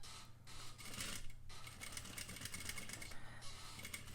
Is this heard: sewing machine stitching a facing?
yes